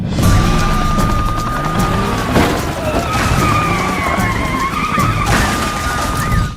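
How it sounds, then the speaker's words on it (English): A Mustang fleeing police skids at high speed during a pursuit, with a steady roar of engine and road noise, long tire squeal and a couple of heavy thumps, loud and close throughout. "The pursuit ended with a tactical maneuver that sent his Mustang crashing out."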